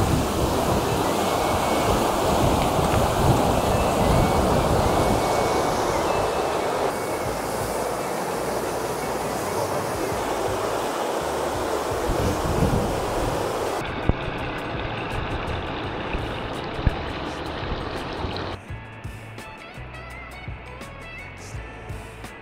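Strong wind roaring steadily through a mountain valley near the Pehuenche international pass, a loud broadband rushing gust noise that varies in intensity and buffets nearby, with no talking.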